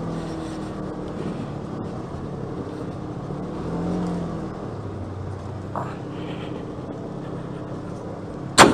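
A 2017 Polaris RZR 1000 side-by-side engine drones steadily while driving on Sevenmile Trail, a low rumbling hum with a brief sharp knock near the end.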